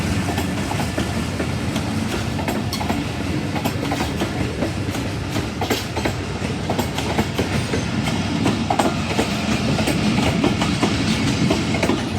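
The Pakistan Express passenger train departs Badami Bagh station in Lahore, rumbling steadily with a continuous clattering of wheels on rails, loud and close throughout, with no voices.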